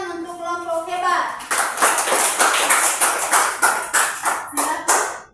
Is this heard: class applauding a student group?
yes